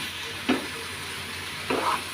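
Chopped ash gourd frying with turmeric and salt is stirred in a pan, giving a steady close sizzle with two brief scraping strokes of the spoon. No voices.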